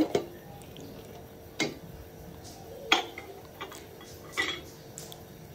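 A spoon stirs milk payesh in a pot, giving a few sparse clinks and scrapes against the metal over a quiet, steady simmering hiss.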